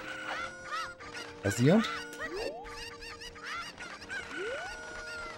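Chickens in a video game cluck and squawk in rapid, rising bursts, close and fairly loud, with someone speaking briefly over them.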